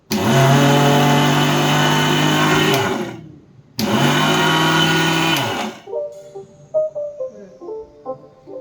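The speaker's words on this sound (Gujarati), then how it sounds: "તો આપણે આને મિક્સચરમાં એકદમ મસ્ત રીતે ક્રશ કરી નાખશું." A mixer grinder crushing wheat dough for churma ladoo roars loudly in two bursts of about three seconds each. After it stops, the contents rattle and knock inside the jar.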